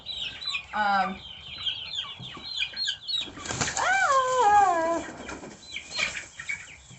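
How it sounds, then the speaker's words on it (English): Chickens cluck and squawk close by in a lively, uneven chorus, with one long rising-and-falling call in the middle and bursts of wing flapping mixed in. "we've got the crazy chickens going now"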